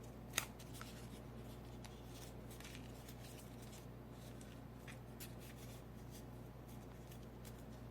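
Paper for a paper-build robot being pressed, rubbed and shaped by hand, soft close crinkles and scratchy rustles spread across the stretch, quiet and without speech.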